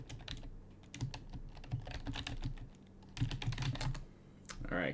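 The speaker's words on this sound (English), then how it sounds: "furiously typing in fantasy name generator" Rapid, furious typing on a computer keyboard, dense bursts of key clicks with brief pauses, close and fairly loud with no voices over it.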